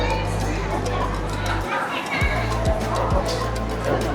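A busy crowd chatters at Senado Square in Macau, a constant murmur of many voices with a steady low hum beneath and a brief dip partway through.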